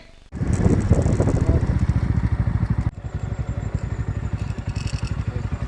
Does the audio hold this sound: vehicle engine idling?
yes